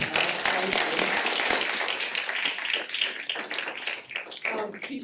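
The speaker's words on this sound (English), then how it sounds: "I just want to give a round of applause to this council." Audience clapping for a council at an academic center's anniversary event, a thick patter of hands that holds steady and then thins into scattered claps toward the end.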